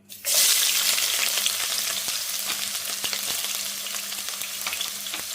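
Chopped onion sizzles steadily in hot coconut oil in a kadai, a loud, continuous frying crackle that starts abruptly and keeps going with small pops and stirring scrapes, no voices.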